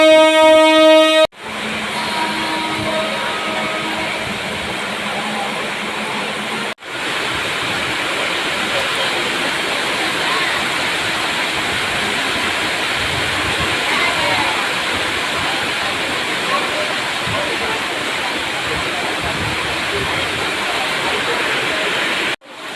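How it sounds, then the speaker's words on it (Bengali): Heavy rain pours down steadily near a train station, a dense, loud, unbroken roar that carries on for the whole stretch after a short horn-like tone at the very start. "তো দেখতেই পেলে কি পরিমাণে বৃষ্টি হচ্ছে মানে ট্রেন থেকে নেমে"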